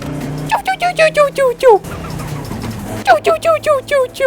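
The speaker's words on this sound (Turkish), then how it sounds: "Lan arabada çok enteresan bir ses var vites değişirken." In the racing game Forza Horizon 5, a car shifting gears makes a rapid series of chirpy, squealing mechanical tones that repeat in two bursts, with a steady engine hum underneath and a short pause between.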